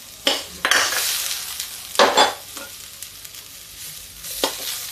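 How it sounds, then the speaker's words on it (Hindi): Fried potatoes are added to a dish cooking in a pan, with close hissing sizzle and a few scraping stirs and utensil clinks in short bursts. "इसमें डालते हैं थोड़ी सी तली हुई आलू"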